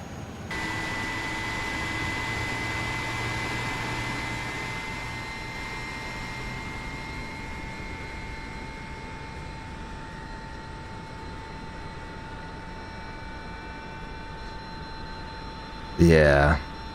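The iniBuilds A300 airliner's engine spools up during start, heard from outside in a flight simulator game: a steady, loud whining roar with sustained tones that holds for many seconds, ending in a short, sharp burst.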